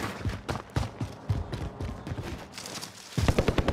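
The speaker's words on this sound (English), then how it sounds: "Oh, that's gunfire." Video-game gunfire crackles in rapid bursts of sharp shots, steady through the middle and turning heavier and louder in a closing volley.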